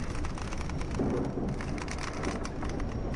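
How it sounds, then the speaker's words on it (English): Heavy thunderstorm rain with gusting wind in a Professional Ship Simulator game, a steady dense wash of close downpour that holds the same level throughout, with no voices. "Let's go thunderstorm, resume, and it will start coming in."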